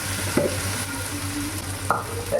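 Small tomatoes sautéing in a pan for fish curry, a loud steady sizzle of frying with a few sharp clinks as a spoon stirs them, no voices.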